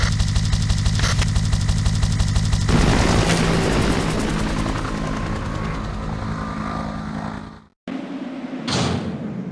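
A helicopter in the video game Biohazard 3 throbs with loud, rapid rotor pulses, then the sound shifts and cuts out abruptly before a brief return.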